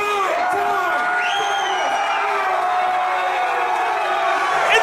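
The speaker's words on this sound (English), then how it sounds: "the crowd goes wild" A wrestling event crowd cheers and whoops loudly and continuously, with rising shouts and scattered high yells near and across the hall.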